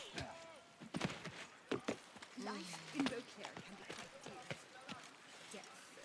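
Faint, irregular hoof clops from horses in a video game, scattered knocks at a low level, with game sounds and background voices mixed in.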